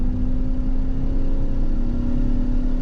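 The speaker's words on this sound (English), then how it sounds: "can pull this over into S and let it rev out a little bit. A little bit more throttle." A BMW X5 engine revs out in S mode under added throttle, giving a loud, steady, close droning roar with a strong low hum and no voices.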